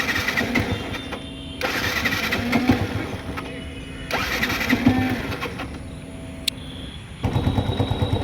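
A motorcycle that has been reluctant to start gets several repeated starting attempts, each a burst of cranking and engine sputter separated by short pauses, close and loud.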